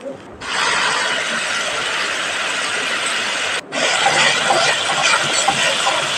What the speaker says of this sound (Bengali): আমি মশলাটাকে এখন ভালো করে কষে নিব।